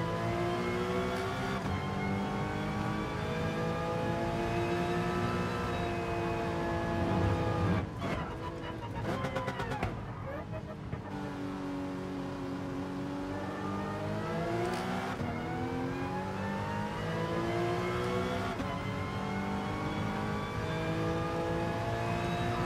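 A race car engine revving in Gran Turismo Sport, rising and falling in repeated sweeps with gear changes, a brief choppy dip midway, loud and close throughout.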